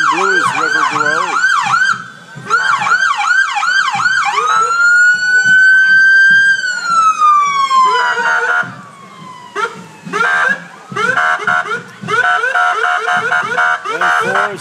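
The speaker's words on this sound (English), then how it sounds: "So the parade has started, and we've got a lot of police cars from all over." Police car sirens blare loud and close during an Independence Day parade in Elmwood Park, Illinois, cycling through rapid yelp bursts, a long rising-and-falling wail, then more choppy yelps as vehicles pass, with no talk over them.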